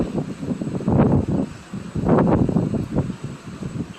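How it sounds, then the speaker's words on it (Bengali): Gusty wind blows outdoors on a cloudy, rainy day, rumbling into the microphone in uneven surges with brief lulls between the stronger bursts. "অনেক সুন্দর বাতাস হচ্ছে"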